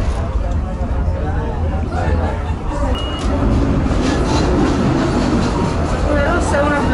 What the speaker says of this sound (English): we're going to take the tram.